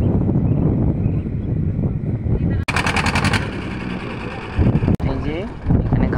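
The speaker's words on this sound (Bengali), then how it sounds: "নৌকায় করে পার হচ্ছে" A riverboat, likely motor-driven, ferries people across a swollen river toward a landing ghat, giving a steady, loud, rattling throb throughout with a few brief dropouts and voices at times.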